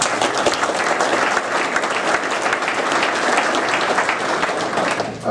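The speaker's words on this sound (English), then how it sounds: "So a round of applause for those guys." An audience at a builders dinner at AirVenture 2012 bursts into loud, dense applause that carries on without a break for about five seconds, with no talking over it.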